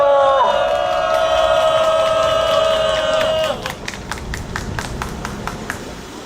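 Outdoor crowd at a construction workers' union press conference. A loud sustained tone fades out, then a scattered burst of clapping with some cheering follows, fairly close.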